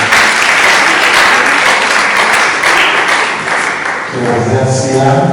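A business summit audience gives sustained, dense applause, loud and continuous, before it thins and a voice begins speaking near the end.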